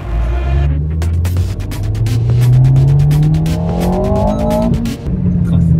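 Small cars at the GP Explorer racing event drive past, one engine climbing steadily in pitch as it accelerates, loud and close, with another hum in the background.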